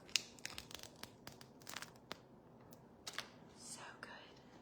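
Protective film being peeled off a new makeup palette, a quiet crinkling and tearing with several sharp crackly bursts, close and soft, with faint whispery sounds around it.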